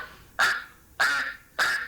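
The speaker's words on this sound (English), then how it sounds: "those ducks in the background tell us that it is time for another" Ducks quack three times at an even spacing, each call loud and nasal against a quiet background, with no talking.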